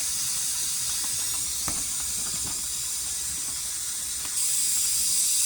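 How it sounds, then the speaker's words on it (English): A steady, forceful hiss of steam venting under pressure from a pressure canner, continuous and loud, growing slightly stronger near the end. "how forceful that steam is coming out"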